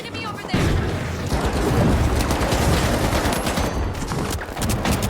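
Gunfire in the video game The Finals, a dense continuous barrage of rapid shots and booming impacts that starts abruptly after a short pause and keeps going loud, with players talking over it.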